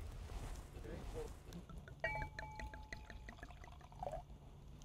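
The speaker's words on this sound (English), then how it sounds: "All right, let's pour you some." Dessert wine pours into a glass at a vineyard tasting, a soft trickling stream rising in pitch for a couple of seconds, quiet beneath people talking nearby.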